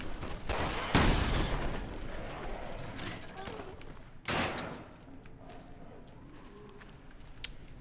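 Shotgun blasts in the video game Resident Evil Revelations 2, two loud booming shots a few seconds apart, with a lighter crack later, under ongoing game ambience and a person talking.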